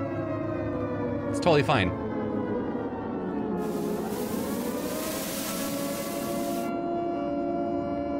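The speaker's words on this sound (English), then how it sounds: "it's kind of ballsy to use an air raid siren like that" An air raid siren in a video game rises and wails steadily over a droning engine-like hum, loud and sustained, with a brief voice speaking near the start.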